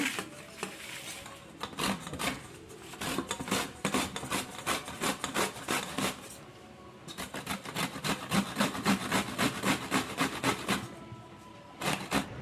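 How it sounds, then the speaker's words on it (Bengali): Beetroot and carrot are rubbed against a small kitchen grater in quick rasping strokes, a steady scraping rhythm that runs on with brief pauses, close and moderately quiet. "এবার বিট আর গাজর একটুখানি ঘষে নেবো"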